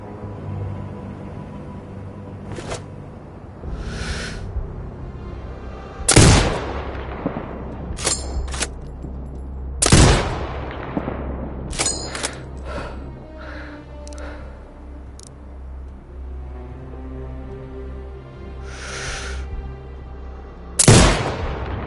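Sniper rifle shots in the video game Sniper Ghost Warrior Contracts 2, several sharp loud reports spaced far apart with echoing tails, plus lighter distant gunfire over a low ambient rumble.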